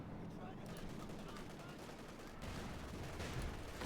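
Company of Heroes 2 battle where a Firefly tank engages a Stuka, with a dense, continuous wash of gunfire and explosions that swells slightly toward the end, with a commentator talking over it.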